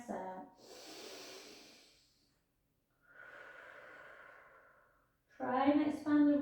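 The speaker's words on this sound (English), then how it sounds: "just take some nice big breaths in" Deep slow breathing in a Pilates shell stretch, with long audible exhales and inhales in a steady rhythm close to the mic, ending with a person starting to speak.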